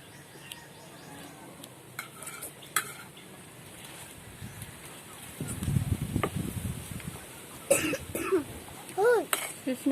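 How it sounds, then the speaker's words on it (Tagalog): A few coughs from a nearby person with a cough and cold, mixed with light kitchen clatter and quiet talk in the background. "Inuubo at sinisipon silang dalawa."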